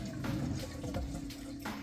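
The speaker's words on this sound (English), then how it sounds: "here you can hear that drain running that water out nice and fast" A Whirlpool Cabrio washer drains its water quickly, giving a steady gushing rush of flowing liquid with gurgling pulses, fairly quiet and continuous with no voices.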